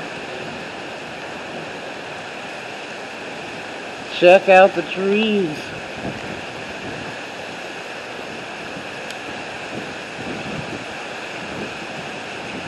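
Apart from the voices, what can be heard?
pouring rain during a Las Vegas storm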